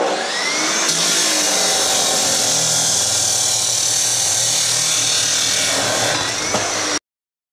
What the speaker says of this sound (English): So now I'll cut it here